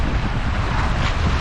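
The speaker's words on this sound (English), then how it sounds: "There's a strong wind warning on at the moment." Strong coastal wind roars over the microphone beside a beached boat at low tide under a strong wind warning, a loud, dense, unbroken buffeting rumble with no other sounds standing out.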